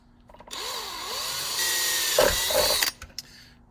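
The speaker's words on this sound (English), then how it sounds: "we're going to drill a pilot hole using our 1/8 inch drill bit" A power drill with a 1/8 inch bit bores a pilot hole while fitting an external battery to a Gentoo sprayer, whining steadily for about two and a half seconds at close range, then stopping with a few small clicks.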